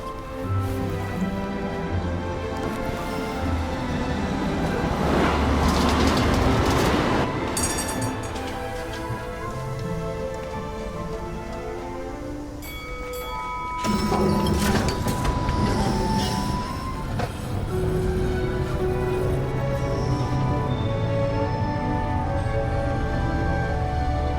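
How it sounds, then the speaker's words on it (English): A tram arrives and runs through a scene in the video game Syberia: The World Before, rumbling with rolling rail noise that swells early, dips, then surges again, mixed with mechanical clanks and tonal whines over about twenty seconds. "But here's our tram."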